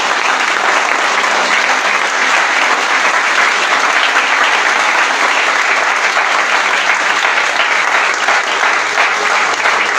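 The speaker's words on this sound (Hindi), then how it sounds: "आइए जोरदार ताली को भी यीशु मसीह के लिए बजाएंगे।" A church congregation at a Hindi-language sermon applauds for Jesus Christ, with loud, dense, sustained clapping from a large crowd that continues evenly throughout.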